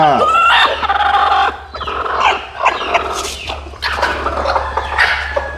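A brooding country hen clucks and squawks loudly when touched, close by, in agitated bursts mixed with other animal noises around the yard.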